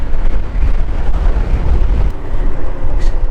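Gusty wind roars loudly across the microphone, a continuous low rumbling buffet with no voices, at a coastal viewpoint near Patapat Bridge, Ilocos Norte.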